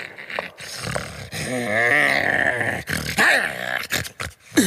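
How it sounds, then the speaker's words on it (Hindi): A rough, sustained growl from a character in a Motu Patlu cartoon rumbles on for several seconds, rising and falling in pitch and loudness. "अरे बंद करो ये गुर्राना"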